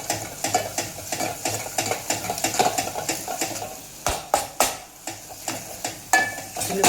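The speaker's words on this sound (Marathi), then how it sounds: "आता चटणी चांगली मसाल्यामध्ये भाजून घेऊया" Kolhapuri and black chutney roast with masala in hot oil for katachi amti, a soft sizzle under rhythmic spoon stirring and sharp scrapes and clinks against the pan, close and busy.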